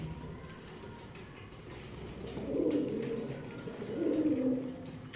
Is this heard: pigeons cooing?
yes